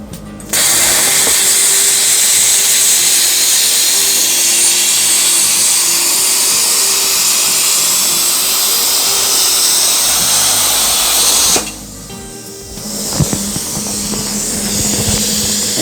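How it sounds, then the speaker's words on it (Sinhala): A Riland CUT 100GT plasma cutter slicing through 6 mm aluminium plate at about 85 amps, heard as a loud, steady, close hissing roar that runs for roughly eleven seconds before cutting off, followed by quieter shop noise. "අපි දැන් 6 mm ඇලුමිනියම් ප්ලේට් එකක් කපලා බලමු"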